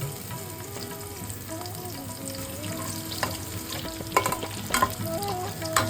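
Crushed garlic hits oil left over from frying bhetki fish bones, giving a close, continuous sizzle with gentle stirring scrapes and a few sharper clicks near the end.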